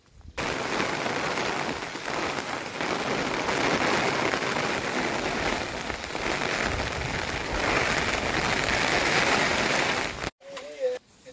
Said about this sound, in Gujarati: વરસાદ આવ્યો છે ધોધમાર તમે જોઈ શકો છો વરસાદ પડે છે